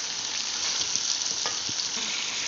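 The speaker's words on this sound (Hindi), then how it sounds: "अब हम टमाटर को थोड़ी सी देर भूनेंगे" Tomatoes fry in a pan with a steady, close sizzle and a few faint stirring taps, no talking.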